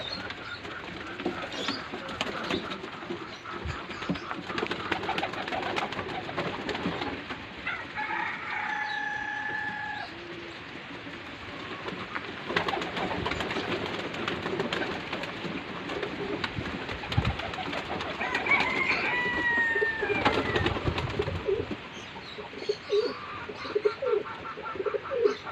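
Pigeons coo softly in a coop with young birds nearby, low murmuring calls repeating over shuffling and scattered rustles, with occasional sharper bird calls cutting in.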